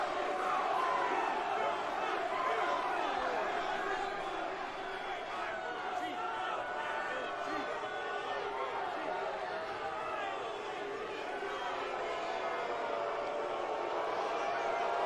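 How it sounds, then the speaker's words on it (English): A crowd at a WrestleMania XL kickoff press conference keeps up a sustained, fairly loud wash of booing and voices that fills the whole stretch, with a slight dip in the middle. "People are booing."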